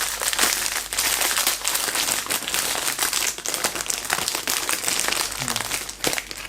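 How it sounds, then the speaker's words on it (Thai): A Hario V60 VCF-01 paper coffee filter is torn and handled up close, giving continuous crisp crinkling and rustling of paper with sharp little tearing bursts and no speech. "หรือจะฉีกออกมาอย่างนี้ก็ได้ก็แล้วแต่เรานะครับผมก็ ดึงแบบนี้ก็แล้วกัน"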